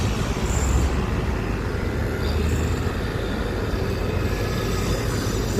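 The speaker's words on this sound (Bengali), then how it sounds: "ট্রেনটা দাঁড়াচ্ছে, ট্রেনটা যাবে," A train pulls into a station in New York with a continuous, loud, rumbling roar of wheels and carriages that stays steady from start to end, with no voices.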